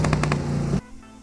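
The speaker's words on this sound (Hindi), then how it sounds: "यहाँ आते ही मुझे गोलियां चलने की आवाज आती हैं।" Rapid bursts of video game gunfire crackle at close range for most of the second, then cut off abruptly, leaving a faint low hum.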